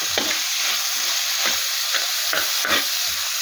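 Cloves and cardamom fry in hot oil for a Kerala beef roast, a steady close sizzle with soft stirring scrapes at irregular moments and no voices.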